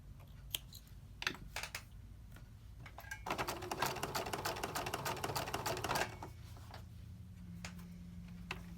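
Home sewing machine stitching a machine appliqué on a Christmas mug rug, heard alone in short bursts of rapid mechanical stitching, with one longer steady run in the middle and brief pauses between for pivoting the fabric.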